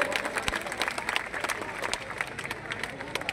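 A gathered crowd at a mass Vande Mataram event in Mahal, Nagpur claps to honour a Brigadier, scattered, moderately loud applause with some crowd murmur mixed in.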